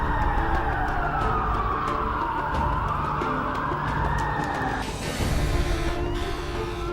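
Emergency vehicle sirens wail in rising and falling sweeps as firefighters and police arrive at the collapsing World Trade Center towers on September 11, 2001, loud and continuous over a dense rumble of street noise and commotion.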